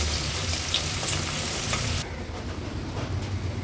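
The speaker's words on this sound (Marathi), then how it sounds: "कांदा आणि लसूण व्यवस्थित शिजवून घ्यायचंय।" Chopped onion and garlic fry for an Agri Koli-style stuffed river crab curry, giving a loud, dense sizzle that drops suddenly to a quieter, softer hiss partway through.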